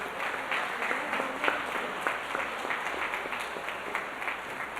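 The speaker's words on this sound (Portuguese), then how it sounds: "Dê uma salva de palmas para Ele." A church congregation at a celebration service gives a round of applause, a moderate, continuous patter of many hands in a reverberant room, steady for several seconds without speech over it.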